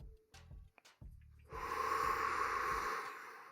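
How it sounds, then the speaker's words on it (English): Breathing done on purpose: a few short sniffs and breaths, then one long, forceful exhale rushing out through the mouth, close and loud, with no talk. "I'm really breathing hard through my nose, getting it out through my mouth."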